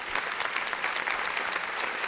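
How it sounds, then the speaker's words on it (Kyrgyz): A studio audience on a Kyrgyz televised quiz show gives a brief burst of even, dense applause after a correct answer. "Жооп туура, кол чаап коюңуздар."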